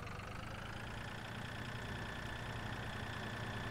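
A tractor engine in Landwirtschaftssimulator 2013 runs at a steady idle-like drone, faint and continuous without any change in pitch, with no voices over it.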